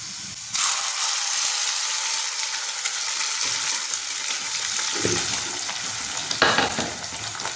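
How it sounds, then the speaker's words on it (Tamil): Onions and curry leaves sauté in hot oil for a Kudampuli fish curry (Meen Kuzhambu), a loud close sizzle and hiss that swells as food is stirred, steady throughout with brief scraping, no voices. "இந்த எல்லாம் வதங்கிட்டு இந்த உள்ளியெல்லாம் வதங்கிட்டு பாருங்க"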